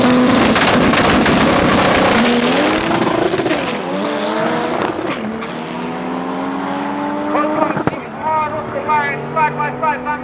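A drag-strip Corolla with a 1J engine launches alongside another car at a club event at Tarlton International Raceway, a loud roaring run that climbs through gear changes and fades down the strip, with faint crowd and announcer voices under it.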